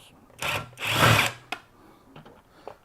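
A handheld power drill loosens screws on a Chauvet LED moving head stage light, giving two short whirring bursts, the second longer, followed by small clicks and handling noises close up.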